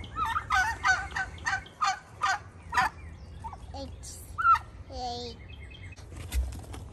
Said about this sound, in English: Big chicken. Big chicken.